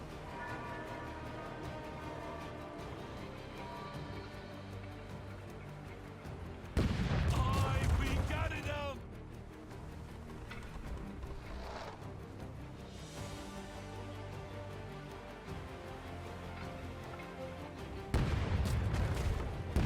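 Pirate ship cannons fire in the Rogue Waters video game, heavy booming blasts with crackling debris in two loud bursts over steady background game music and ambience.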